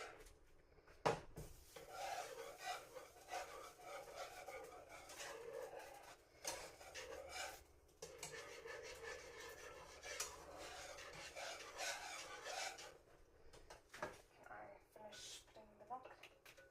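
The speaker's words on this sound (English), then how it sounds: "Whisk constantly to smooth out any lumps and prevent the mixture from sticking." A whisk scrapes and swishes steadily through a milk mixture in a pan, a continuous close rubbing texture with a few brief clinks, under people talking.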